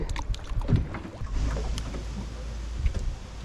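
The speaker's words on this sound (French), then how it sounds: "Il y a tellement de vent, on peut pas pêcher" Strong wind blows across a lake while boating for black bass, buffeting the microphone with uneven low gusts and a few knocks from the boat.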